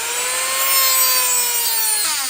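A grinder or cutting tool bites into the outer bearing on a Ford 8.8 rear axle, producing a continuous high, shrill metallic whine with shifting tones, loud and close throughout.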